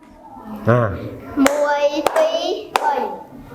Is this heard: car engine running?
no